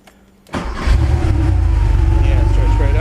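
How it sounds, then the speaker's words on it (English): A vintage air-cooled Porsche 911 engine cranks briefly and catches, then settles into a loud, close, steady idle with a deep, throaty rumble. "So right now I'm going to start the engine up"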